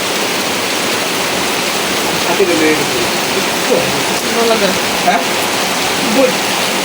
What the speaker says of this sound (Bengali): বাইরে দেখেন প্রচুর বৃষ্টি হইতেছে প্রচুর একবারে অনেক বৃষ্টি হইতেছে